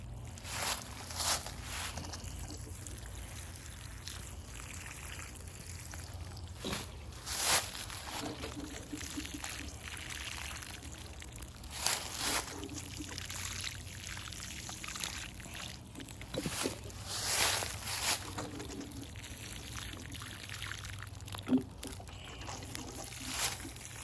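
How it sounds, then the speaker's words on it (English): Seedlings newly planted two to a tire are watered, with repeated bursts of splashing pour and trickle over soft background noise, interrupted by occasional louder sloshes and knocks. "So I'm going to water them."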